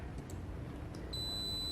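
A Zennio Z41 PRO KNX touch screen gives a steady high electronic alarm beep that starts partway through and holds on, clean and fairly close over a low background hum.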